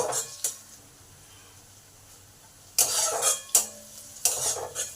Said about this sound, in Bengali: এই সময় কিছু কারি পাতাকে কুচো করে দিয়ে দিলাম কারি পাতাগুলো একটু ভেজে নেব